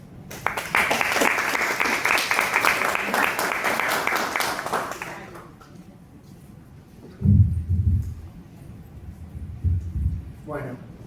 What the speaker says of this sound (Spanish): Los invitamos al escenario con un fuerte aplauso.